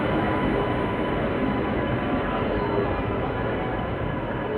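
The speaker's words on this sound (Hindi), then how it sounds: "तो फाइनली ये जो ट्रेन है ये लगाई जा रही है प्लेटफॉर्म संख्या 4 पे, अरुणाचल AC सुपरफास्ट एक्सप्रेस।" Arunachal AC Superfast Express train pulling into platform 4 at a station, a steady, loud, continuous rumble of rolling wagons that carries through all of the clip with no voices over it.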